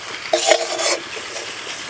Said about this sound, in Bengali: ওই তেলেই ভেজে নেব ধনে জিরে।